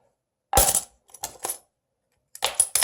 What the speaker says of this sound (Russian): Вот видите, монетки.